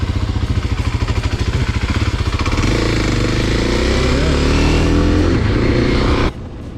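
A KTM 390 dual sport motorcycle with an aftermarket exhaust runs steadily up close with a regular pulsing thrum, rising slightly in pitch, then cuts to a lower idle near the end.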